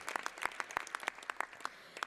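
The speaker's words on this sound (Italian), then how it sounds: "Applausi." Sparse clapping from a few members of the Italian parliament, individual claps spaced irregularly and fairly close, with faint chamber ambience between them and no voices.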